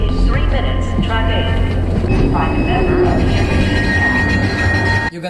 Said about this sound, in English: Mount Vernon train will be leaving in 3 minutes.